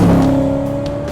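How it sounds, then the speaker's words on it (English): A BMW E9X M3 race car with a Borla exhaust passes close by, giving a loud, deep, crisp engine note that fades quickly as it goes. "When you hear a Turner M3 go by with the Borla exhaust on it, the note is crisp and clear and deep."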